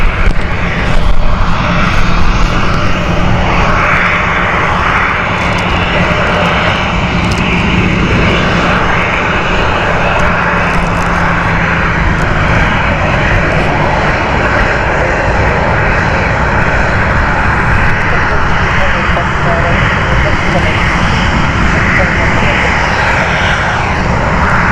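A Ryanair jet at Stansted Airport roars loudly and continuously at close range, with the engine noise holding steady throughout and faint voices underneath.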